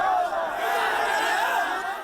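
A protest crowd on the street shouts together, a continuous chanting roar heard from a distance, mixed with scattered voices.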